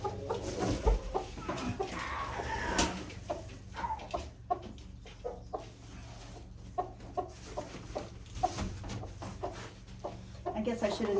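A mother hen clucks in a coop on a homestead being readied for baby chicks, with soft, irregular clucks and low grumbles close by while a person talks quietly over them.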